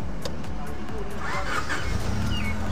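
A Honda EK9 Type R with a K20A engine turns over with a rapid cranking chug and catches into a loud, close idle, with someone talking over it.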